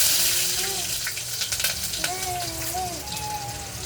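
Steady sizzling hiss of ginger, garlic and onion frying in a pan, with faint voices and a few clinks in the background.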